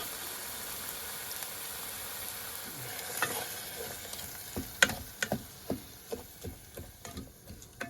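Food sautés in a pan on a camp stove, giving a low steady sizzle, then a run of scraping and tapping stirs that grow more frequent toward the end, close but fairly quiet.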